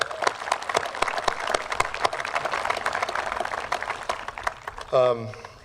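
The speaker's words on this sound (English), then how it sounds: "to the steering committee, let's give them a round of applause" A crowd outdoors at a baseball complex dedication gives the steering committee a round of applause, a steady patter of moderately distant clapping, ending as a voice begins speaking.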